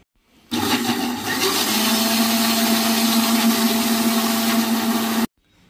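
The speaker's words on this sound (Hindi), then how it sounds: "आम को मैंने मिक्सी के जार के अंदर पीस लिया है" A mixer grinder blending mango with sugar starts abruptly and whirs loudly and steadily for about five seconds, then stops suddenly.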